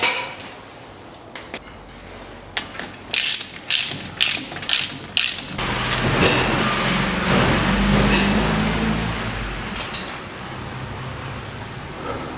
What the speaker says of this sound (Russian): Шаровую опору закрутил, подтягиваю болт